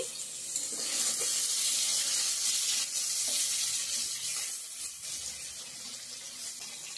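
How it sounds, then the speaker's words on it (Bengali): Paneer pieces frying in hot oil in a kadai give a steady, close sizzling hiss that swells early, holds and then eases slightly toward the end, with faint stirring and clinks under it and no talking. "এখন পনিরটা ভেজে নিচ্ছি"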